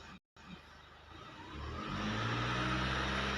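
A car engine starts and is blipped up to about 2,000 rpm while stationary; after a brief dropout the low steady idle rises into a louder, sustained drone that holds near and even to the end.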